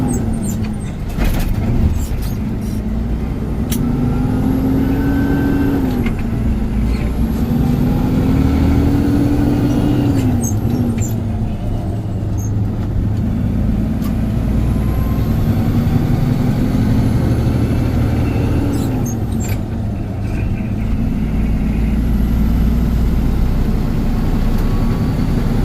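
A semi truck engine, loud and close, rises and falls in pitch as it revs and is double clutched between gears, with steady diesel rumble and a few clunks of shifting.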